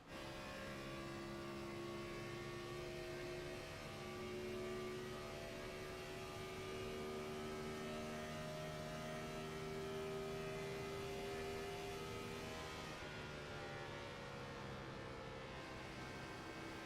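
A race car engine in the iRacing video game screams at a high, steady pitch of around 9,000 RPM on the Auto Club Speedway oval, a sustained tonal whine that holds constant with slight pitch shifts, faint and continuous, without voices.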